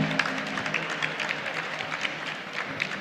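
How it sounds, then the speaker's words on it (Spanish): Audience applause at a public event honoring the city's chronicler, a moderate, even spread of clapping from a seated crowd, continuous and fairly distant. "Pues yo les pido un fuerte aplauso, por favor, para Luis Alegre, cronista de la ciudad."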